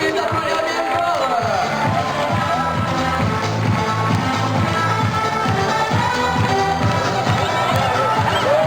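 A crowd claps in rhythmic unison at an outdoor toro piscine game with a young cow and a pool, steady beats under a busy murmur of voices.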